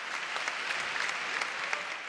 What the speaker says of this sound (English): You should clap that shit up